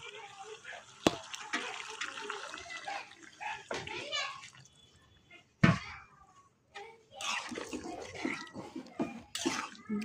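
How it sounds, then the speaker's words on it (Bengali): Hot water is poured into a pot of chicken feet curry after the feet have been browned with spices, giving a running, splashing pour in bursts with clatter and muffled voices in the background. "এখন আমি গরম পানি দিব, দিয়ে সিদ্ধ করে নেব।"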